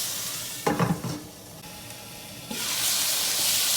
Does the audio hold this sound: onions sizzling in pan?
yes